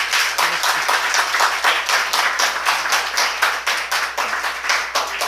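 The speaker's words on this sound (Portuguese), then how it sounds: "Vamos dar uma salva de palmas para Jesus." A church congregation claps together in praise, a fairly close, rhythmic burst of many hands beating in loose unison with regular pulses throughout.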